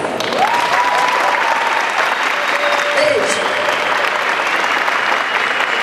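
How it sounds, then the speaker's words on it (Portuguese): An audience at an anime convention talk gives sustained, even applause at the end of the presentation, with a voice briefly speaking over the clapping and a thin whistle-like tone drifting through. "mais uma salva de palmas. Por favor, aplausos, pessoal."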